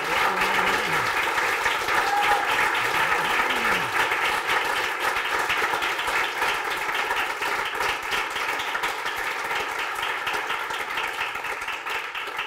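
A university audience applauds at the end of a talk, giving steady, dense clapping throughout that stays loud and close, with a few faint voices mixed in underneath.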